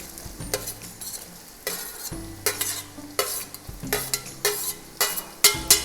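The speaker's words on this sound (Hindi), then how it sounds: "हम प्याज को हल्का गुलाबी होने तक इसमें भून लेंगे" Two large chopped onions frying and being stirred in a pan, with repeated scraping stir strokes over a steady sizzle, close and fairly loud, no talking.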